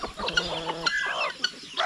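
Chickens cluck in a tight run of calls among mixed backyard farm birds, including ducks, with several sharp, fairly close squawks over a steady hum of other fowl voices.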